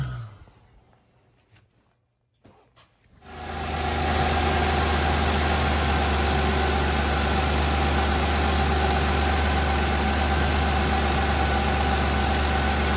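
2004 Mazda Tribute engine with freshly replaced coil packs cranking over and settling into a steady idle, a loud, even hum and rumble heard up close after a brief quiet start.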